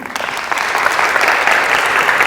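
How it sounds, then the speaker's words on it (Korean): A chapel audience at Soongsil University gives sustained applause for a speaker, dense steady clapping from many hands filling the room throughout. "좋은 말씀 해주신 선생님 다시 한번 감사의 박수 드리겠습니다"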